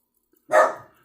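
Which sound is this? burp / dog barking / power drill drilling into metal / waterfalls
dog barking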